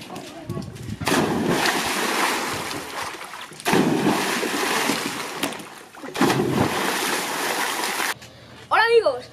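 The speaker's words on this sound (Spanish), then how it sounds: "esto se está convirtiendo en un concurso de planchazos" Repeated heavy belly-flop splashes into a home swimming pool during a jumping game, three loud watery crashes with brief pauses between, followed by a short high-pitched voice.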